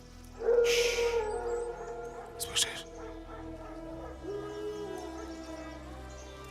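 Wild dogs howling in the forest in The Witcher 3 video game: drawn-out, wavering howls in the distance, under a character's speech and ambient game music.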